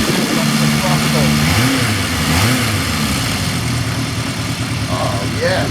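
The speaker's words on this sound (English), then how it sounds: "I'm definitely 4 cylinders." A classic motorcycle's swapped four-cylinder engine runs close by, idling and rising in short throttle blips with a steady mid-pitched drone, while someone talks over it.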